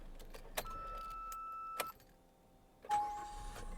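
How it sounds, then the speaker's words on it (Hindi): A Maruti Suzuki Brezza facelift LXI with smart hybrid ISG starts up quietly: faint clicks and chimes inside the cabin, then a brief soft rise as the engine catches and settles into a low idle. "इंजन को स्टार्ट करना है तो सिंपली क्लच के साथ आप करिए, बहुत ही साइलेंटली।"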